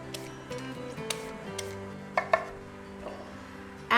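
Sweet potatoes being peeled and cut by hand in a kitchen, scattered light ticks and soft knife taps on a board with a few sharper clacks, a louder knock at the end.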